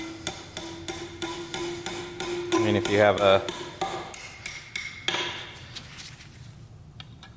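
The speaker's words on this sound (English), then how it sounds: "I just take the hammer and" A hammer taps a side shim into a Nissan 350Z or G35 differential during a 4.08 ring and pinion rebuild, giving a steady run of sharp metallic knocks followed by a quicker flurry and a few last taps, with brief talk partway.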